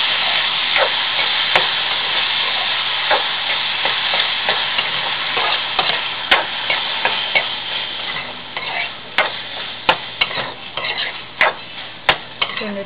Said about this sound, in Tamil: தக்காளி சேர்த்துட்டு நல்லா கிளறணும்.